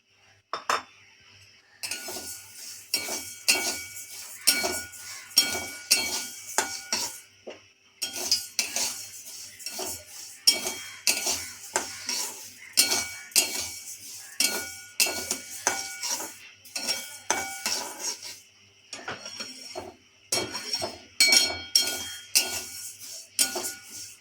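Moong dal dry-roasting in a kadai on a gas stove, stirred with a metal spoon that scrapes and clinks against the pan in a brisk, repetitive rhythm of close, sharp taps for the whole stretch.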